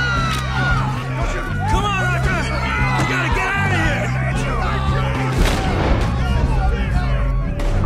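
Red Dead Redemption 2 gunshots crack out in a rapid volley, booming and echoing amid layered game sounds as voices talk over the clamor.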